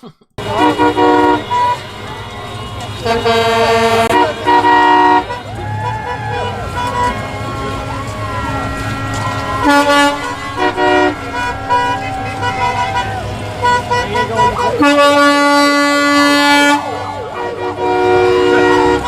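Many car and truck horns honk and blare in overlapping bursts during a trucker convoy in near-gridlock Ottawa streets, some long and sustained, with siren-like tones mixed in, loud and chaotic over a traffic rumble.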